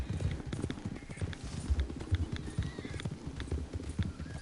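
Rapid horse hooves in Red Dead Redemption clip-clop in a steady galloping rhythm, fairly quiet, with faint background noise and no talking.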